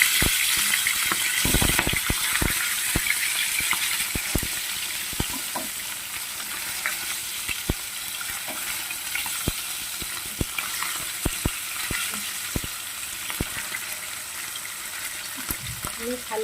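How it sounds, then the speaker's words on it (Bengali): A piece of chitol fish fries in oil in a pan with a loud, continuous sizzle and frequent sharp pops and crackles, close up and steady throughout. "উল্টে দিয়ে আর এক পিস ভেজে নেব"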